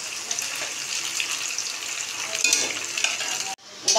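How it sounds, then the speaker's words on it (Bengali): Paneer pieces frying in hot oil in a pan for kasoori paneer, a steady dense sizzle with occasional stirring scrapes, close and continuous, cutting off briefly near the end before resuming. "এভাবে আমি পনিরগুলো সব ভেজে তুলবো"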